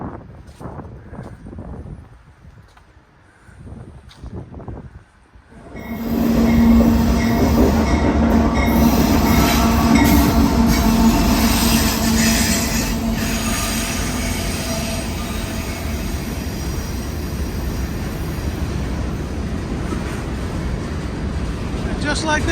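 A large train rolls past at a historic station in Staunton, Virginia, rising from quiet into a loud, sustained rumble with squealing wheels and clatter that continues steadily, close by.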